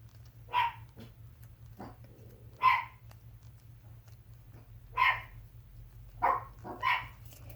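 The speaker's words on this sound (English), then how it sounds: "The dogs hear the mail carrier outside, and that's what they're barking at." Several dogs bark at a mail carrier outside, a handful of sharp, separate barks spaced a second or two apart, heard from some distance against a quiet indoor hum.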